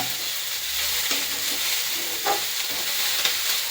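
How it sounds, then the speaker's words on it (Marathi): Onion frying in a pan until it reddens, a loud dense hiss and sizzle that runs steadily throughout, with a few faint scrapes of stirring. "थोडा आता कांदा भाजायचा प्रयत्न चालू आहे कांदा लाल झाला"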